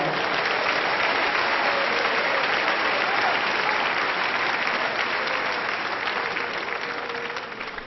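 A church congregation claps together during a Spanish-language service, a dense, continuous roar of hands filling the room, loud and even before easing slightly at the end.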